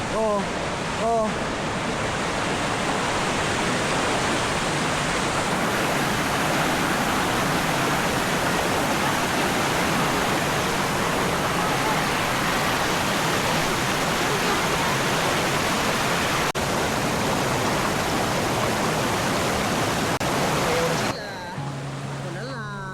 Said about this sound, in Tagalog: Just to show this great falls here.